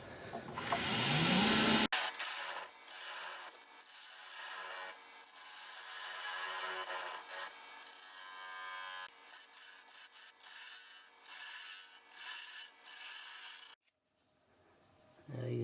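A woodturning tool cuts a pumpkin-shaped wooden box spinning on a lathe, shaping the face, rim and edge; a steady, close scraping rasp runs for about twelve seconds with brief interruptions, then drops away to near silence.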